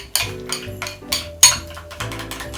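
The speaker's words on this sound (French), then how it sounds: "je vais fouetter un peu plus ma crème" Cream being whisked by hand in a metal bowl or pan, sharp clinking strokes coming in uneven bursts about every half second, close and clear with no talk.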